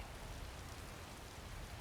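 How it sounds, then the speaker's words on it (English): Rain falling in the video game Skyrim, a dense, steady hiss of rainfall with no breaks, soft and even throughout, no talk. "And it's raining on her."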